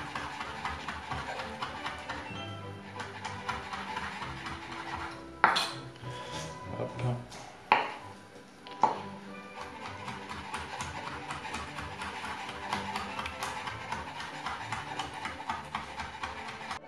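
Knife slicing ingredients on a cutting board for Cantonese braised pork: steady rapid tapping of a blade on wood, a few louder clatters of utensils midway, then the quick chopping resumes at an even pace.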